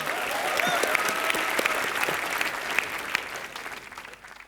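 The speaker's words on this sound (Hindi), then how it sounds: "भट्ट साहब के लिए एक बार जोरदार तालियां।" A studio audience at a Colors TV comedy show gives loud applause for Bhatt sahab. Dense, sustained crowd clapping fills the room with a few sharper claps on top, then fades toward the end.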